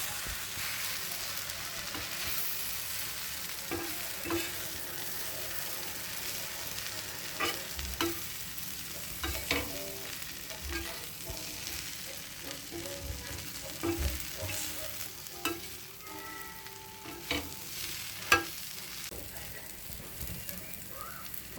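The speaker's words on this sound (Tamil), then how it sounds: "சப்பாத்தி போட்டு இதை நல்லா இப்போ நம்ம மிக்ஸ் பண்ணணும்" Chapathi pieces for veg kothu chapathi being stirred and mixed in a hot pan, with a steady low sizzle and repeated soft scraping strokes throughout, no talking.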